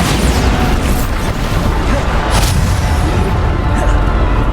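In the video game Hogwarts Legacy, the Bombarda explosion spell goes off with loud, dense rumbling booms that fill the whole clip.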